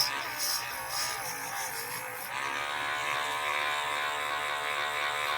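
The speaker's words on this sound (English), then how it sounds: "I have learned the lesson of not having this Dremel on too fast when you're polishing plastic." A Dremel rotary tool polishing plastic on a Majorette Citroën DS 21 ambulance model car gives a steady high-pitched buzzing whine that shifts slightly in pitch partway through, running close and continuous without talk.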